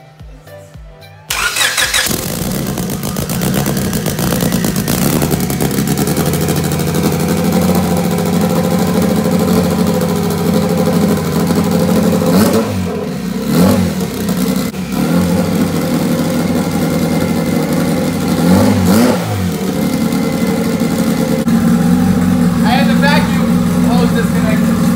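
A turbocharged car engine cranks and catches, then settles into a loud, rough idle, with a few throttle blips that rise and fall. People talk close by over the steady exhaust roar.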